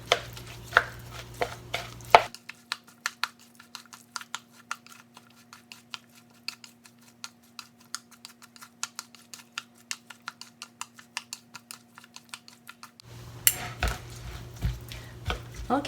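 A utensil mixes burdock salad with mayonnaise in a bowl, making a quick, even run of soft, close clicks and taps. Louder handling and clatter sit at the start and end.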